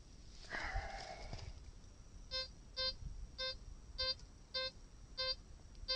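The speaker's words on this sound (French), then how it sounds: "Là, vous entendez, le détecteur prend parfaitement la monnaie." A metal detector testing a coin on mineralized ground gives a run of short, even electronic beeps, about seven in a steady rhythm, after some faint handling noise. The beeps are quiet and close.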